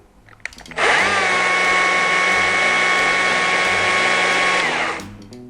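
A Stihl MSA 70 C cordless chainsaw revs up after a few clicks and runs at a steady, loud, even high-pitched whine for about four seconds, then winds down, with no one talking.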